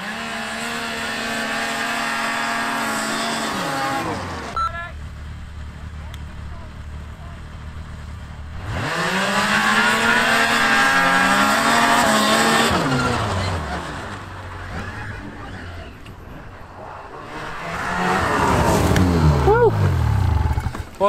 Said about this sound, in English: did a little hole shot drag race just to give you a sense of which is quicker